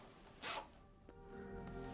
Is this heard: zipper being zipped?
yes